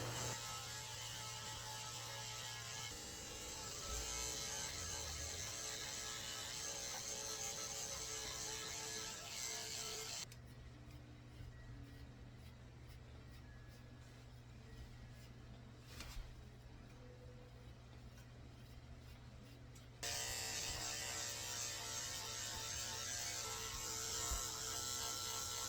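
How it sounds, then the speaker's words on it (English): Dog clippers fitted with a zero comb trim thick, damp golden retriever fur, a steady close mechanical buzz running throughout, with a quieter stretch in the middle before the louder drone returns. "I'm using the zero comb attachment, just neatening it all up, taking off all the scraggly hairs"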